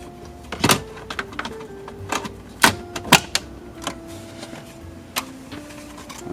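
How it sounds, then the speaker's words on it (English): Plastic air vents on a Lexus LX 470 dashboard are pressed into place by their pins, giving a series of sharp, close clicks and snaps at irregular intervals over a quiet background. "we just got to put our air vents back in"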